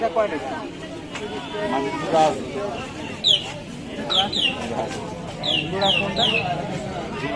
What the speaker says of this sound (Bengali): এই লাল মোরগ